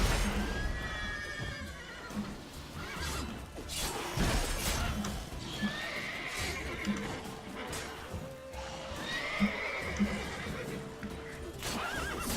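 A horse neighs repeatedly in The Witcher 3 video game, with hoof clops, crashing impacts from a kick against a ghoul, and whooshing combat effects layered over busy game sounds.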